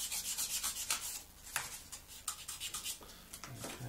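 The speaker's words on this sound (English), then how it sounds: "come in with some skinny sponges and the like, and just take out all the scratching that we've made" A skinny sanding sponge rubs back and forth over a scratched surface of a Phantom, making close, steady scuffing strokes with brief pauses between passes.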